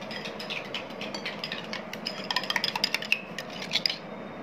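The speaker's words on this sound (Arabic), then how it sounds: "هنقلب الخليط كويس" Stirring a powdered milk mixture in a bowl with a spoon, giving a steady run of soft scraping clinks that grow busier and louder toward the end, close by with no talk.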